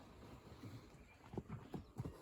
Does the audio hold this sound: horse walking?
yes